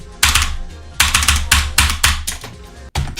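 Close, crisp clicking on a computer keyboard in short rhythmic bursts, each cluster of key presses starting sharply, with a momentary gap just before the end.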